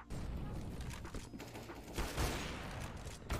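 Quiet rattle of rapid gunfire in the CS:GO video game during a competitive match, a dense burst of shots with a couple of louder cracks, heard faint and distant.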